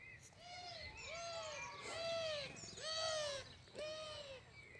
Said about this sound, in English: We've got lots of birds flying around at the moment, so if you can hear birds in the background.